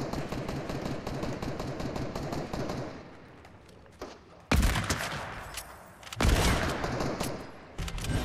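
Rapid gunfire in Fortnite: dense bursts of automatic shots rattle continuously, then thin out before loud, close single blasts and renewed volleys break in, with no talk.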